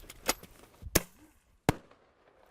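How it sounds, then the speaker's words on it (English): Cracker-shell bangs used outdoors to scare wolves away from livestock ring out as a few sharp, loud reports with brief echoes, spaced apart over quiet background noise. "It's just like a firecracker, a big firecracker."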